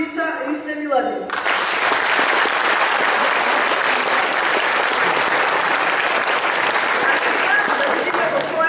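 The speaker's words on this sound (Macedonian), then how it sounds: "Еден голем аплауз за човекот со 100 лица Ристе Миладин." An audience at a drama studio performance in Struga breaks into sustained, loud applause right after a brief spoken introduction, the clapping filling the room evenly for several seconds.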